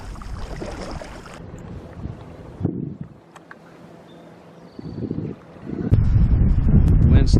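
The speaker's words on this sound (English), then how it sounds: "The wind's starting to pick up some." Wind picking up on a creek during a paddle, with low gusty rumble across the microphone, rocking boat sounds and splashes, loud bursts near the start and again toward the end, with quieter lulls between.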